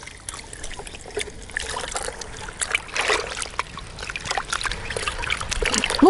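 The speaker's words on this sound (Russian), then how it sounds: "Сперва мы это удобрение растворяем в небольшом количестве воды." Water trickling and splashing faintly while fertilizer for peonies is dissolved in a small amount of water, irregular light dribbles and stirring sounds growing slightly busier toward the end.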